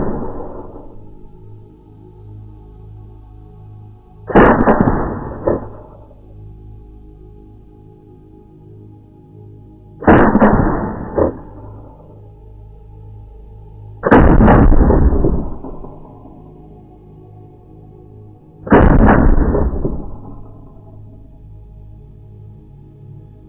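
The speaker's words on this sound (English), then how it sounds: "I'm going to be shooting just to test it out" Four loud rifle shots fired through a Warrior Shorty suppressor at an outdoor target, spaced several seconds apart, each a sharp boom with a short rolling tail over a steady low background hum.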